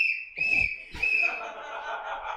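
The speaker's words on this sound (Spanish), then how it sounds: "está silbando, ¿verdad?" A person whistles sharp, high sustained notes in short bursts close to the microphone, with a couple of low thumps and faint chuckling or background chatter between them.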